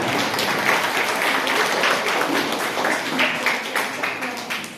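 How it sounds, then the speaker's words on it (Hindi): Audience applause at a math magic show: a large crowd claps loudly and continuously in a dense wash, sustained throughout and tapering slightly toward the end. "अपने लिए जोरदार ताली बजाएं"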